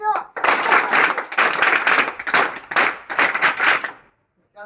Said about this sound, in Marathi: एकदा जोरदार टाळ्या वाजवून एक साथ क्लॅप दो.